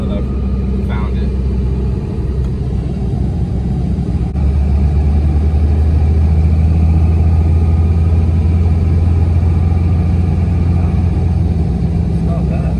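Manual Dodge Ram 2500 with the 5.9 Cummins diesel cruising in fourth gear around 2,000 RPM at about 55 mph: a loud, steady low engine drone and road rumble from inside the cab, with someone talking over it.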